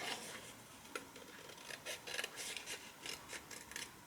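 Scissors snip through paper card for a pop-up card, a series of short, quiet crisp cuts in an uneven rhythm, close by with no talking.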